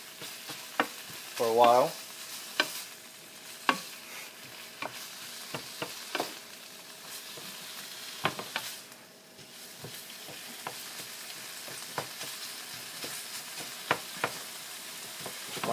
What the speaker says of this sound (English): So I'm just gonna stir fry this around and around